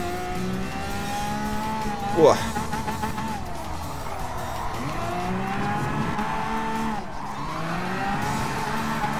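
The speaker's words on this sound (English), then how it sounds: "I'm able to drift around my opponents" A Lamborghini Aventador drifts in the GT Sport racing game, its tires squealing in long sliding wails over a constant engine drone, with a sharp burst early on; a voice briefly exclaims.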